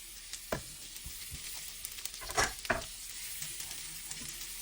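Minced garlic and a little onion sizzle steadily in a pan, with a few sharp scraping stirs and clicks of a utensil over the continuous frying hiss.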